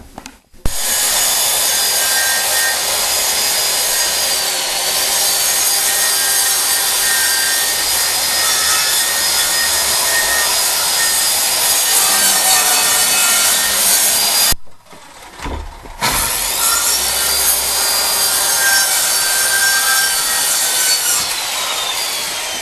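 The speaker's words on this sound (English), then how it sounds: "We set our blade at a very shallow depth, just enough to cut the linoleum." A power saw set to a very shallow blade depth scores through old bathroom linoleum flooring, a loud steady whining cut lasting most of the time with one brief pause before cutting resumes.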